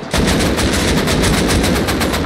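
Automatic AK rifle fire in the survival game Rust: a loud, close, rapid burst of evenly spaced shots running without pause for about two seconds.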